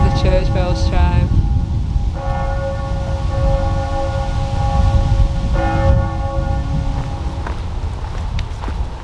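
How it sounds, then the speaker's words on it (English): Church bells ring out in several resonant strikes that hang and fade, over a busy background of footsteps and crowd murmur, in Chamonix, France. "as the church bells chime."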